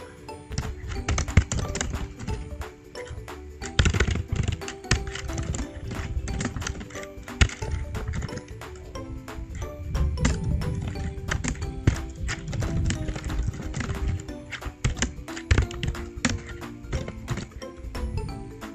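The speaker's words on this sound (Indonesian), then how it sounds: "kita ketik dulu judul besarnya di bagian atas" Fingers type steadily on a computer keyboard, a long run of quick, close clicks and key taps with brief pauses, alone without talk.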